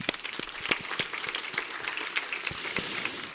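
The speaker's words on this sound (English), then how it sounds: "Let's give them applause." An audience at a conference plenary applauds: a dense, steady patter of many hands clapping at moderate volume for the whole stretch, with no speech over it.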